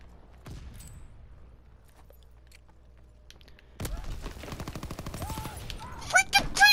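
Video game gunfire, with rapid bursts and repeated shots in the second half that grow louder toward the end, after a quieter stretch. A player reacts over part of it.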